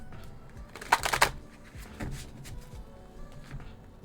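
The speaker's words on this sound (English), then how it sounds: "More shuffle." Tarot cards being shuffled in a quiet room: a quick burst of riffling and flicking around the first second, then softer scattered card rustles and taps, faint and close.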